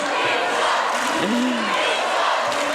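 Roller derby fans at a Finland versus Belgium World Cup bout cheer and shout loudly as a crowd, a constant wall of voices with a rising yell near the middle.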